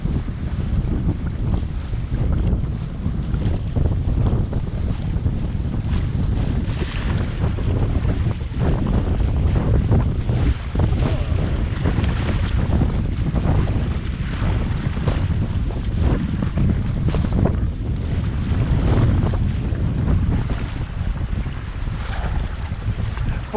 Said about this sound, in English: we are sailing in Florida Bay